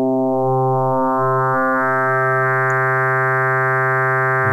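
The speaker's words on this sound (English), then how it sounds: "Very significant noise floor gets introduced very quickly." Loud buzzy harmonic tone from an Arturia Synclavier-V synthesizer using 8-bit frequency modulation, held steady with a slight wobble at first and a grainy noise floor underneath.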